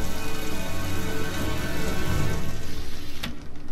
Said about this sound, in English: It's raining. Typical.